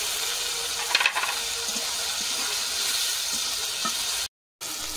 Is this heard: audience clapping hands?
no